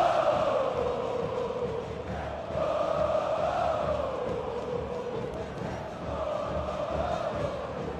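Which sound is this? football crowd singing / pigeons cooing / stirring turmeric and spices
football crowd singing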